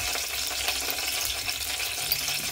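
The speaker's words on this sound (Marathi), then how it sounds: "तेल तापलंय. कढीपत्ता उडायला. आता हिंग टाकते 1 चमचा." Curry leaves and a spoonful of asafoetida crackle and sputter in hot oil in a home kitchen pan, a steady dense frying hiss with scattered pops, close and continuous with no talking.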